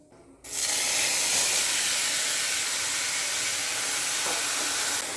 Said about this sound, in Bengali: এই যে ফোড়নে একটুখানি জিরে দিয়ে দেব